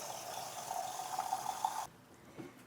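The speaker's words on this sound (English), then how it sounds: "we fill it up with water" Filtered water runs steadily into a jar of broccoli sprouts fitted with a stainless steel mesh lid, a close, continuous pour that stops abruptly partway through, followed by a brief soft slosh in the quiet.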